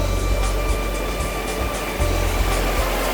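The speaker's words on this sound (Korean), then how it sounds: "오, 왜 이렇게 파도 세지?" Strong waves crash at Sampo beach in a loud, steady roar of surf, with low wind rumble pulsing underneath and no talking.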